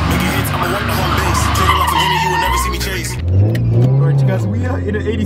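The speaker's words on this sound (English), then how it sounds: "while he proceeds to drift these cars" A Toyota 86 drifts, its tires squealing in long, loud screeches over a revving mid-range engine, with people talking close by.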